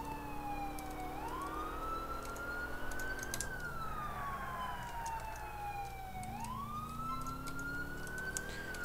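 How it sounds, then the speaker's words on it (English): A police car siren wails in the LCPDFR patrol game, rising and falling in a steady cycle over a low engine rumble, loud and continuous with no talking. "Oh, lights, sirens."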